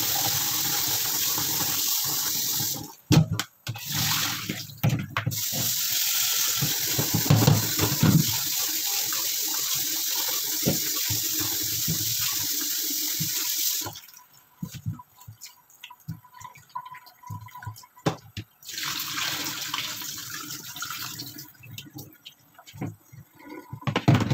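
Kitchen tap water runs steadily into a sink while dishes are washed, a loud close gush that stops briefly a few times and resumes, with clatter and splashing between.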